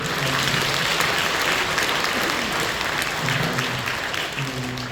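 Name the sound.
church congregation applause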